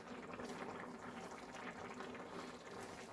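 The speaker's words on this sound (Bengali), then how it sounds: "আমার ফুটতে শুরু করে গেছে।" Chicken pulao coming to a boil in a pot, a steady, faint bubbling and hissing that continues evenly throughout without pause.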